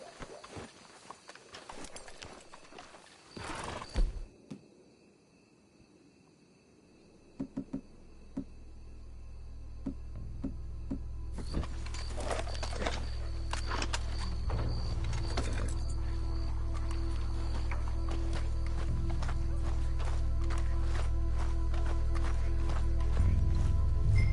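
Horses in the Red Dead Redemption 2 video game, with scattered hoof clops and brief animal sounds early on, then a steady rising low ambient rumble and busy game noise building through the rest.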